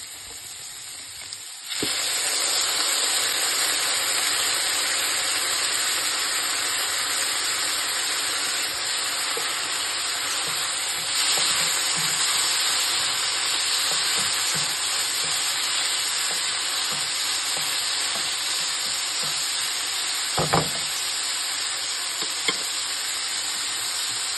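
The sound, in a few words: vegetables frying in a pan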